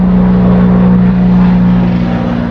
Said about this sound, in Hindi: मेरा हेलीकॉप्टर ऊपर आ चुका है